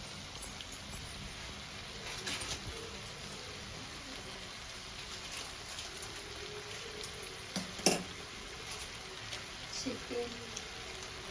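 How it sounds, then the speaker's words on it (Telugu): Ginger garlic paste sizzling in hot oil while a chicken fry is cooked, a soft continuous crackle with occasional louder pops and a brief scrape of stirring near the end. "కొంచెం అల్లం వెల్లుల్లి పేస్ట్ వేసుకోవాలి."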